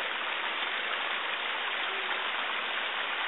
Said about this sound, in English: Got the water coming from the top.